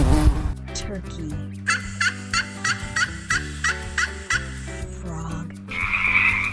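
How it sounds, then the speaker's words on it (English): A turkey gobbles in a quick run of about eight rhythmic bursts, loud and close over a steady musical backing, then a brighter trailing call at the end. "Turkey."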